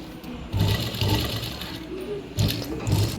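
A sewing machine stitches a lehenga's front border in short bursts of fast mechanical whirring and rattling, starting and stopping several times at close range with no talk.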